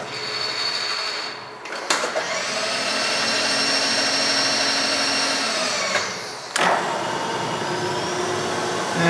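A machine spindle spinning at 1200 RPM, a steady mechanical whine and hum that holds level for several seconds, with abrupt clunks as it starts and shifts.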